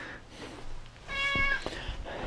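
A house cat meows once clearly at close range over a quiet indoor background, a short tonal call followed by faint rustling.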